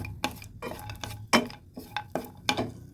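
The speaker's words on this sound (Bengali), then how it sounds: "ভেজে নিচ্ছি ভালোভাবে হালকা আছে নেড়ে নেড়ে ভেজে নেব" Raisins and cashews are lightly fried and stirred in a pan, with a metal spoon striking and clinking against the pan about seven times in a quick, uneven rhythm, close and clear, with no talking.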